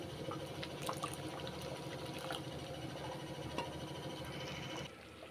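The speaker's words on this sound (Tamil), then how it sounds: "லாஸ்ட்டில் கொஞ்சமாக புளி தண்ணி சேர்த்துக்கிறேன்" Tamarind water pouring and bubbling into a pot of bottle gourd sambar, a soft continuous watery trickle that drops off near the end.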